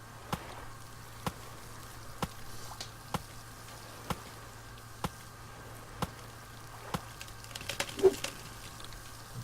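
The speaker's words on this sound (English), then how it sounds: "get myself, for example, a load more logs, chop them up into sticks" Steady chopping in the survival game Stranded Deep as logs are cut into sticks: sharp wooden chops at an even pace about one per second over a low hum, with a small cluster of clatter near the end.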